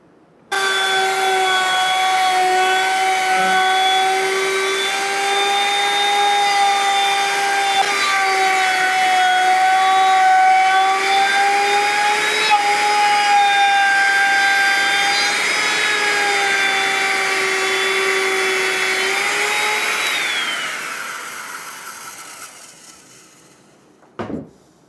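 A router cuts wood along the underside of a bandsaw table, a steady, loud whining tone with shifting pitch that holds for about twenty seconds, then winds down and ends with a brief knock.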